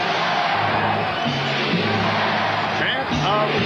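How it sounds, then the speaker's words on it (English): A basketball arena crowd chants a rhythmic call for defense during an NBA Finals game between the Chicago Bulls and Utah Jazz, a loud, dense roar of voices sustained throughout with rising yells near the end. "Chant of defense from the crowd here on Stockton."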